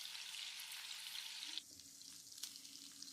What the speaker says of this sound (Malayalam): മീഡിയം ഫ്ലെയിമിൽ വെച്ച് ചിക്കൻ പീസുകൾ വറുത്തെടുക്കണം